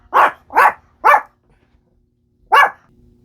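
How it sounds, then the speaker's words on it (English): A dog barks loudly and close by: three sharp barks in quick succession, a short pause, then a single bark, with no talk. "dogs interrupted"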